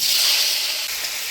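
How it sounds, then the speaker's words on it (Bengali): Chopped tomatoes hitting hot oil tempered with dried red chilli, bay leaf and panch phoron for a Bengali jackfruit curry, giving a loud, steady, bright hiss of sizzling close up, with no voices. "এবার দিয়ে দিব কাটে রাখা টমেটো"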